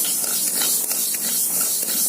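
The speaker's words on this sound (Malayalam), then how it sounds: "ചട്ടി നന്നായിട്ട് ചൂടായതിനു ശേഷം നമുക്ക് ലോ ഫ്ലെയിമിൽ ഇട്ടിട്ട് വേണം ഈ കടുകൊന്ന് വറുത്തെടുക്കാന്" Mustard seeds roasting in a hot pan over a low flame give a steady, close, fairly loud hiss with faint crackly texture throughout, and no voices are heard.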